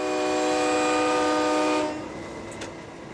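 A train whistle blows at a road crossing in 1982, one long, loud, steady blast lasting nearly two seconds before cutting off, leaving quieter rail and background noise.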